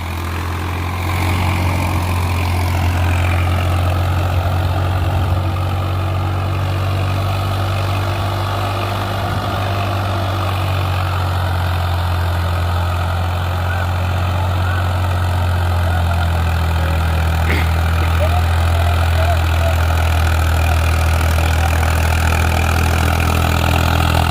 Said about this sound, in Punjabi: ਸਿੱਧਾ ਸਿੱਧਾ ਟਰੈਕਟਰ ਦੁਰਦਾ ਪੂਰਾ